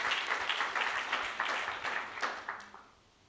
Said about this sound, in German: Vielleicht einmal einen kleinen Applaus an unsere beiden, die hier unterstützen